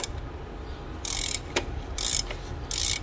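A ratchet tightening the oil filter housing on a BMW 128i, three bursts of rapid clicking close to the microphone, separated by brief pauses and a couple of knocks.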